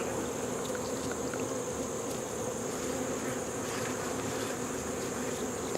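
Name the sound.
bees flying around beekeeper's head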